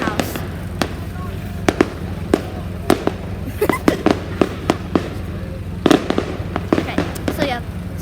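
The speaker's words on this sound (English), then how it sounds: "the fireworks are still going off" Fireworks burst in a steady string of sharp bangs and crackles, some close and loud, others softer and further off, with voices in the background.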